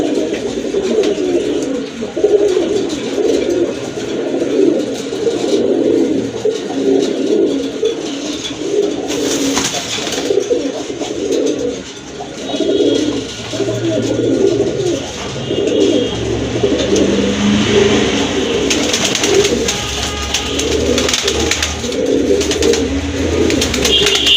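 Pigeons, including a female, coo continuously in low rolling phrases close by, layered and steady throughout with no talk.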